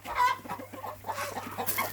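Chickens cluck in a steady, busy chorus close by, with soft repeated calls overlapping throughout.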